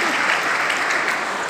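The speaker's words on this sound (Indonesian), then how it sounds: "tepuk tangan dulu Pak Gubernur" Audience at a university public lecture welcoming new students at UHN Medan claps for the North Sumatra governor, a steady, full burst of applause lasting under two seconds.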